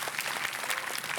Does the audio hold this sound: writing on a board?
no